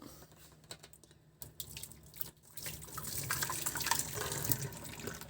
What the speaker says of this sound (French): on va venir enlever de l'eau de cuisson